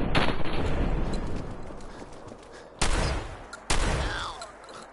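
Gunfire rattles in a Fallout 4 fight, a sustained loud barrage of shots followed by two sharp, heavy blasts that ring out and decay.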